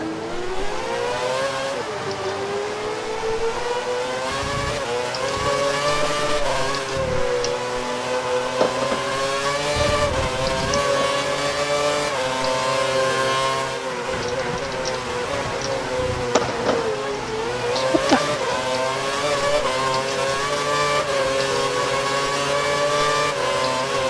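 Race car engines in the video game F1 2012 whine and rev continuously on wet weather tyres at Australia, pitch rising and falling through gear changes, with occasional tire squeals.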